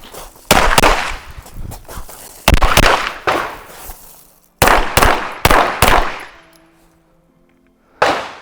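Rapid gunshots from a Steyr ATC pistol on a practical shooting stage, loud sharp cracks fired in quick strings with short pauses, some echoing off steel targets, ending with a final shot after a brief lull.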